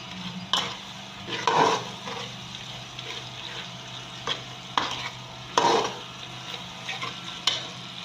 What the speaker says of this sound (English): I'm dissolving the seasoning cubes.